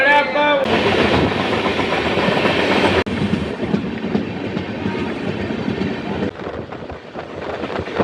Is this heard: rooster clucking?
no